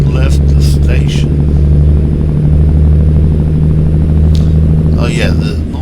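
A big rig's engine in American Truck Simulator drones with a deep, steady hum, overlaid by faint rattles and brief higher bursts that may be a voice.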